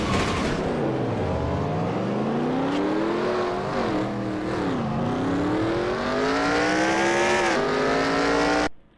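A stock race car at the Atlanta 125, heard from its roof-mounted camera: a loud, close engine roars through repeated rising and falling revs as it shifts and accelerates, with no voices, until it cuts off abruptly at the end.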